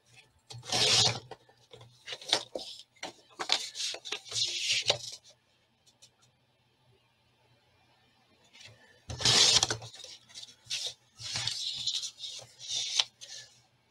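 Paper card strips being cut for a binding on a spring flowers craft project, heard as two separate bursts of crisp snipping and rasping cuts up close, with a quiet pause between them and no talking.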